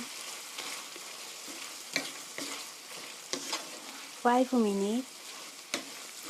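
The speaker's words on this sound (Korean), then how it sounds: "5분 정도 볶아주세요" Chicken with tomatoes and spicy Cheongyang chili stir-frying in a pan, a continuous close sizzle with spatula knocks and scrapes, briefly overlaid by a short spoken phrase.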